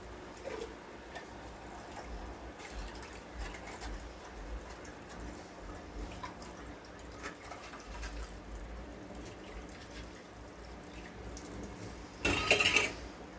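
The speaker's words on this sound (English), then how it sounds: "So you make sure you run that water over top of it." Tap water pours steadily into a rubber can to rinse seasoning and broth from cooked chicken, a soft continuous splashing rush that swells into a louder, brighter burst near the end, with no talking.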